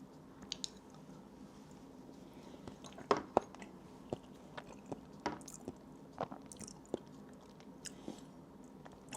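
Someone eating thick Greek yogurt mixed with coffee, soft sticky mouth sounds and occasional sharp clicks spread irregularly over several seconds, close and quiet, without talk.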